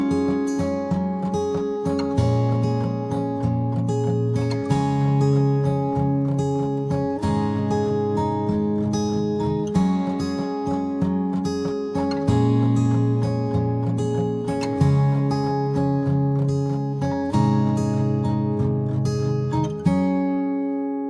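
Several acoustic guitar parts soloed together from a mix play a steady strummed and picked arrangement in a clear, even rhythm. The sound is full and sustained, with no voices, and it rings out at the end.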